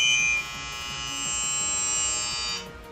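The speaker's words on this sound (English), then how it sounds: "you don't have to hear the laundry buzzer thing going off" A laundry machine buzzer sounds one sustained, nasal electronic tone that holds for about two seconds and then cuts off, fairly loud and close indoors.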